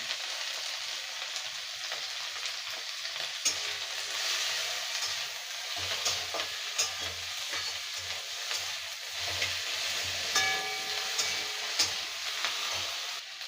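Ginger-garlic paste fries in a pan with prawns for a village-style Bengali prawn dish, giving a continuous crackling sizzle while a spoon stirs with scraping strokes.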